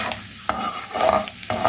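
Chana dal frying in hot oil in a kadai with mustard seeds and dried red chili, a close, steady sizzle broken by a couple of scraping stirs.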